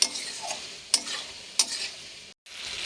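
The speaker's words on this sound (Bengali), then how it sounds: "দিয়ে ভালো করে কষে নেবো।" Peas curry with cumin and coriander powder being stirred and sautéed in a pan: a steady close sizzle broken by sharp scraping strokes of a spatula, alone without talk.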